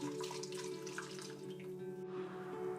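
Hot water runs from a tap into a container to mix oxalic acid, a steady close rushing stream with a bright pouring tone that thins out toward the end, with no voices.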